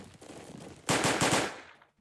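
Musket volley fire in a Napoleonic Wars video game: a loud burst of rapid, overlapping cracks lasting about a second, following a quieter rumbling stretch, then a final sharp shot at the end.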